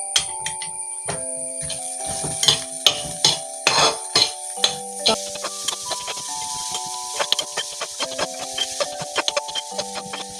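Beetroot thoran with turmeric being stirred in a pan, giving repeated scraping and tapping clicks of a spoon against the pan at an irregular rhythm, fairly close, with no talk.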